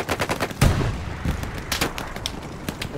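Machine gun fire in the World War II shooter game Hell Let Loose, loud rapid bursts of close automatic shots with a heavy thump among them, crackling in quick repeated volleys.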